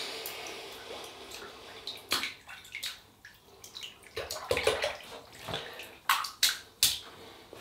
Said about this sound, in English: Wet the brush.